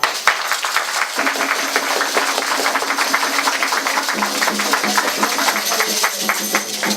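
Dense crowd applause at a Vodou kanzo initiation ceremony, many hands clapping steadily and loudly for several seconds, with voices murmuring underneath.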